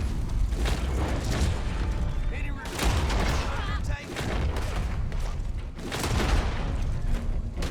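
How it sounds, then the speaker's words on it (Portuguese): Repeated pistol gunshots crack in short bursts over a busy Red Dead Online game soundscape, loud and close, with brief pauses between volleys. "Dando tiros curtos."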